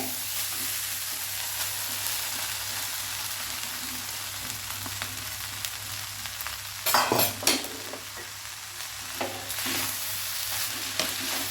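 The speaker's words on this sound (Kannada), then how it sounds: "ಇದನ್ನು ಇದಕ್ಕೆ ಸೇರಿಸ್ತೇನೆ, ಮಿಕ್ಸ್ ಮಾಡ್ತೇನೆ." Boiled rice is mixed in a hot pan, giving a steady sizzle under soft stirring scrapes, with a brief clatter of a spoon against the pan midway.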